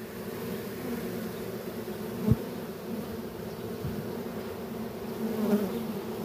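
A caught honey bee swarm buzzes in a dense, continuous drone close by, with a couple of brief knocks and a slight swell toward the end, no voices.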